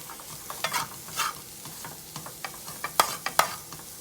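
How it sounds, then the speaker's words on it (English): Chicken fried rice ingredients are stirred in a frying pan over a soft sizzle, with a spatula scraping in uneven strokes and a few sharp, louder scrapes toward the end. "I'm going to go ahead and stir those ingredients up together"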